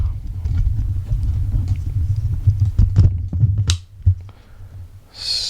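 A camera is wobbled and lifted off its stand. Low, handling rumble and bumps sit under a steady hum, with a few sharper knocks and clicks toward the end and a brief rustling swish. All of it is close, and no one speaks.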